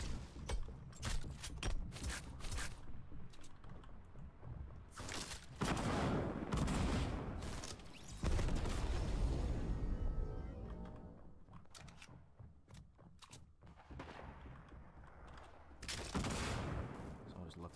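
Gunfire in the video game Fortnite, including shotgun blasts: loud sharp shots in irregular bursts and bunches, close and punchy, with a player talking between them.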